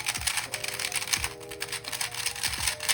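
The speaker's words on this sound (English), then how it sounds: "And this is the new Ferrocore." A new Ferrocore 3x3 puzzle cube is twisted in a short burst of crisp plastic clicking, close-up, with a few sharper snaps standing out in the run and no voices.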